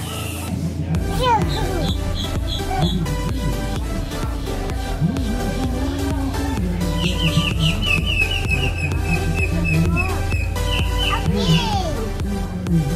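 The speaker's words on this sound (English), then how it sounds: "A bird!" A chicken clucks and chirps around an outdoor eatery at an airboat attraction, mixed into a busy, noisy scene as adults and children talk throughout.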